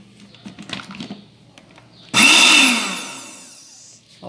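A blender suddenly roars to life after some quiet clattering, whirring loudly for about two seconds before winding down while blending cajá fruit juice.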